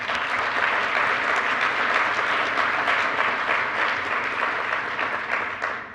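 Conference audience at NANOG 74 giving a round of applause, dense continuous clapping from many hands at a steady level for several seconds, tapering slightly at the end.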